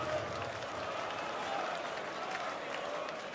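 Darts crowd in Dortmund at the PDC European Darts Championship applauding: a broad, even burst of clapping and crowd noise sustained throughout, loud and close.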